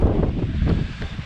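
Gusty wind blowing across an outdoor lawn, buffeting the microphone with a low, rumbling roar that surges and dips unevenly, with faint rustling on top and no speech.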